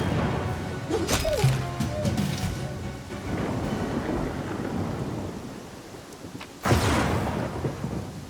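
Thunder and rain in the video game Pathfinder: Kingmaker: a dense rain hiss under rolling thunder, with a sharp crack of thunder near the end and faint game sounds early on.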